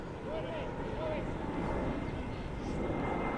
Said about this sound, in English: You can hear the planes flying overhead.